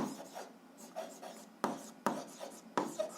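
Pen strokes scratch across paper in short, irregular bursts with sharp taps between them, close and quiet, while working through an algebra exercise on a system of equations.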